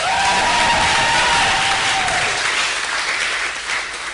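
An audience at a student society and volunteering awards ceremony claps for award nominees, loud sustained applause with a brief whistle-like tone early on, then settling slightly.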